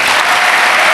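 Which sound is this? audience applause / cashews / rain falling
audience applause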